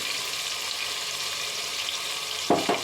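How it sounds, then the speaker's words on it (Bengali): Carrots fry in hot oil with a steady, dense sizzle, then two sharp clattering stirs or scrapes near the end, close and loud with no talking. "গাজরটা একটু ভাজা হবে"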